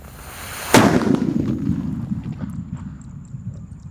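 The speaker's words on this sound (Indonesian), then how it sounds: "eksperimen menyalakan mercon luar negeri ditutup dengan tong jumbo warna biru" A single loud firecracker bang, muffled and boomy under a large blue barrel, followed by a long rumbling, crackling tail with wind noise.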